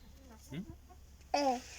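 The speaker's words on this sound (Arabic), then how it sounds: "دجاجة فلوسة." A hen clucks a few short times amid a child's and adult's voices talking nearby, with a louder cluck near the end.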